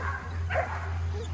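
Excited dogs, a Weimaraner and a Golden Retriever, bark, yip and whimper close by over a steady low hum.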